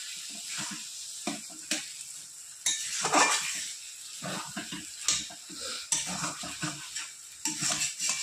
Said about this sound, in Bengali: আর একটু নেড়ে চেড়ে ভাজা ভাজা করে নেব।